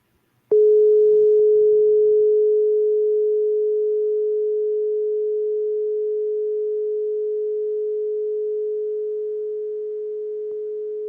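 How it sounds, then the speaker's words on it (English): A long, steady telephone ringback tone on a call placed to Ghana, a single continuous pure tone holding for about ten seconds with slight fading, heard alone with no talk. "it's a long ringtone"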